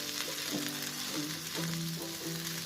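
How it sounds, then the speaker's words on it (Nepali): Buff chowmein being stir-fried over a high flame, a steady loud sizzle of frying noodles with rhythmic tossing and stirring strokes repeating every half second or so, no voices. "मैले 3 देखि 4 मिनटसम्म हाई फ्लेममा यसरी भुट्दैछु"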